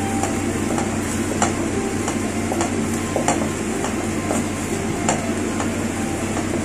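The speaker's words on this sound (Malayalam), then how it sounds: "ഇത് ഈ നെയ്യിലിട്ടിട്ട് ഈ മിശ്രിതം നന്നായി സോക്ക് ചെയ്യാം ഇതിൻ്റെ ഈ പച്ചമണം മാറുന്ന വരെ നമുക്ക് ഇത് വഴറ്റിക്കൊണ്ടിരിക്കുക" A spice mixture sautéed in ghee for egg malai curry, giving a steady dense sizzle with light regular stirring taps of a spoon against the pan, close and continuous.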